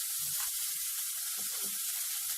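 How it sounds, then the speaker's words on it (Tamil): Curry leaves and fish frying in leftover oil in a pan, a steady bright sizzle with a few louder crackles and pops throughout, close and continuous with no talk. "இப்போது இதில் வந்து அதில் இருக்கிற மிச்ச எண்ணெயிலேயே"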